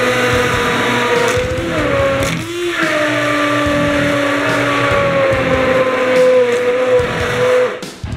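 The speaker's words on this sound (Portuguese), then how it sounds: "a gente bater no liquidificador ou no mixer" A steady motorized whirring runs for several seconds, loud and close, with a brief dip in pitch midway as the blades bog down, like a blender puréeing pumpkin and green apple soup.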